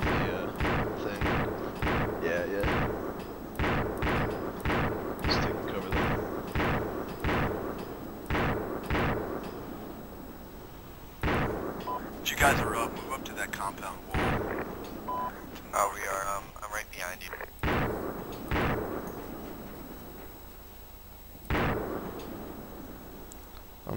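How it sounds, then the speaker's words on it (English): Repeated sharp AK rifle shots from a video game in bursts, loud and close, with brief pauses between volleys and faint background noise. "hearing gunfire to our right, is that correct?"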